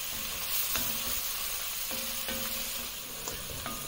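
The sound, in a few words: mushrooms sizzling as they cook in wine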